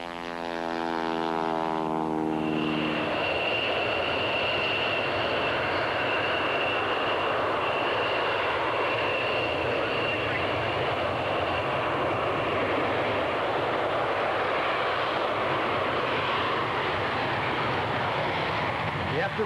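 A propeller airplane making a final low pass down the flight line at Dayton International Airport during the 1992 United States Air and Trade Show, a loud, sustained engine roar that builds quickly and stays strong and steady, with brief talk at the start.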